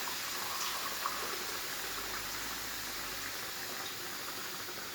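A cup of water poured into a pot of homemade chicken and vegetable curry on the stove, a soft continuous splashing hiss, fairly faint and steady, with no speech.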